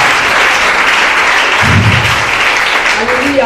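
A church congregation applauding and cheering, a loud dense wall of clapping that stays steady throughout, with voices calling out beneath it.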